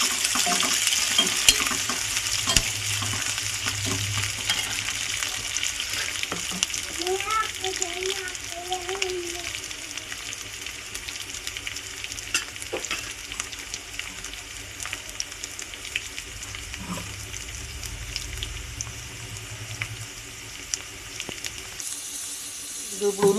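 Onions and curry leaves fry in a pan for crab curry. They are stirred through a steady sizzle and hiss, with occasional scrapes and a voice talking over much of it.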